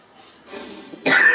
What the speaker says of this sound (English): she's coughing